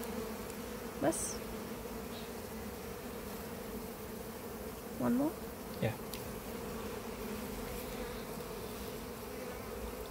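Honey bees buzzing around a beehive during an inspection, a continuous droning hum with individual bees passing close, while a person speaks briefly.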